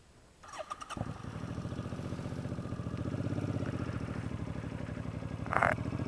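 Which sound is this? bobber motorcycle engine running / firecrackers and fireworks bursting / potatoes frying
bobber motorcycle engine running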